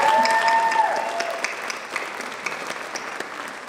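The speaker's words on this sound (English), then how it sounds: "Give yourself a round of applause." Banquet audience applause fills the room: dense, steady clapping from many people that gradually thins and softens over a few seconds.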